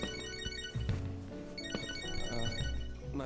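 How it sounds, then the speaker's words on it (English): Phone ringtone in the video game Catherine: Full Body, a melodic electronic ringing tune with repeating tones, moderately quiet and steady, alone without talk. "My phone."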